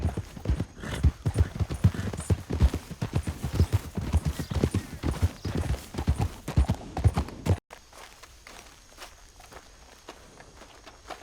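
Horse hooves clip-clopping in a Western video game, a loud close run of rapid, rhythmic hoof strikes that stops abruptly, leaving a quieter ambient bed.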